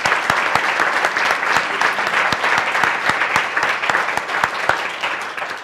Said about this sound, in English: how about a round of applause for Ben Carr?